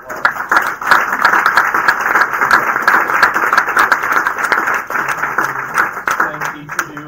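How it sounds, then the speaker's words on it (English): An audience at a school board candidate forum claps steadily for about seven seconds, a dense, even round of applause filling the room. "Let's give our candidates a round of applause."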